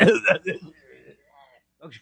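A person imitates a coughing fit, with several rough, throaty coughs in quick succession, then strained voiced sputtering and a final short cough.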